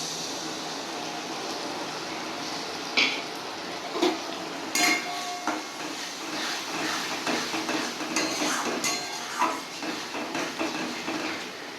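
Soy, tomato and chilli sauce paste goes into vegetables frying for a chilli fish gravy, with a soft sizzle under repeated clinks and scrapes of a utensil against the pan.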